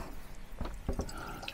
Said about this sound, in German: Jetzt füllen wir hier das Ganze wieder mit Wasser auf.